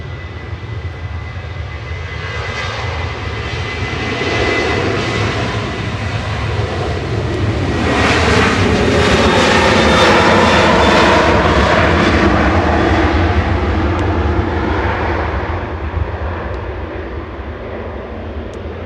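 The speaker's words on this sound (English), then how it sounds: "Departing next is Sun Express to Antalya, flight 593." A SunExpress airliner departing Manchester for Antalya, its engine roar swelling to a loud peak at mid-clip, then easing off as it passes.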